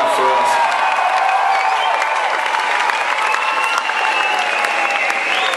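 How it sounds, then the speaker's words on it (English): A concert audience gives the stage crew loud, sustained applause, with dense clapping close by and scattered cheers and whoops rising over it throughout. "So I'd like to give them a massive round of applause for doing that for us."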